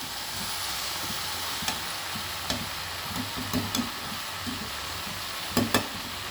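Vegetables and fish head stirred and fried together in a pan for a Bengali chorchori, a steady close sizzle with scattered spoon scrapes and knocks throughout.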